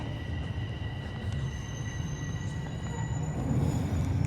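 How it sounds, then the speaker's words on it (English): Steady low rumble of a westbound Toronto TTC subway train moving through Bessarion Station, growing slightly louder toward the end, with faint high tones above; no voices. "Oh, look at that, another westbound train."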